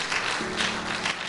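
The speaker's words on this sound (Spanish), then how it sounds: "¿Puedes darle un aplauso de alabanza a Jesús?" A church congregation applauds in praise, a short burst of steady, dense clapping from many hands in a reverberant hall.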